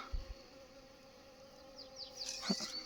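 Faint buzzing of Buckfast honey bees flying around a hive nearby, with one passing close near the end; quiet outdoor background without talk.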